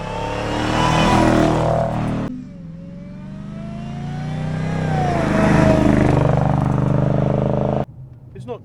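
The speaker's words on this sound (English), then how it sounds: "it's had the back box deleted on the exhaust, which gives more V8 noise" A 2005 Jaguar S-Type R with a 400-horsepower V8 and a deleted exhaust back box revs loudly, its engine note rising and falling through a sustained pull before cutting off abruptly.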